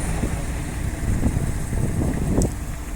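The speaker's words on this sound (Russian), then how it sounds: "Очень тихо, спокойненько и ровно работает мотор" An MMC FG25 forklift engine idles in a low, even rumble, running steadily and quietly with no changes in pace.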